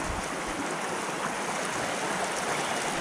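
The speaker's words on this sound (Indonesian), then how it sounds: "Adalah ada aliran sungai Kali Kuning yang berasal dari Gunung Merapi." Kali Kuning river, flowing down from Mount Merapi, rushes steadily in a continuous broadband wash of water at close range, with no talk over it for the whole stretch.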